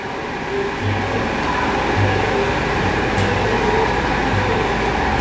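An old engine, considered for powering a sawmill, runs steadily with a loud, even rumble and a faint repeating low pulse, with no talk over it.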